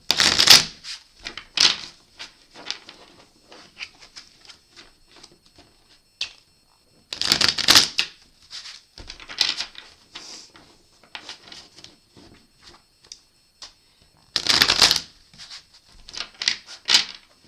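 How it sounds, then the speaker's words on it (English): Tarot cards being shuffled in repeated bursts of rapid riffling and soft rubbing, close up, separated by quiet pauses. "I'm going to shuffle a couple more"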